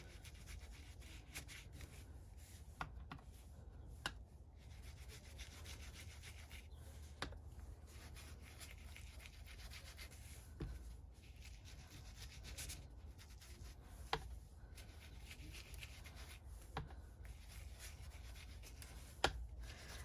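A tool rubs steadily across an embossed papercraft surface coated with vintage medium, a faint, continuous scratchy rasp with occasional small taps and ticks, quiet and close, with no talking.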